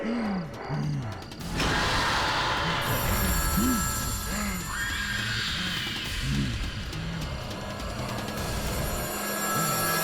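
A telephone rings repeatedly in quick trilling bursts, set against a dense, roaring background of dramatic noise from a horror drama.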